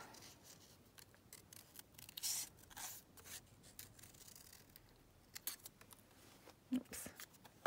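Scissors snip through material in a few quiet, separate cuts, some with a brief rasping slide of the blades, set against a faint room background.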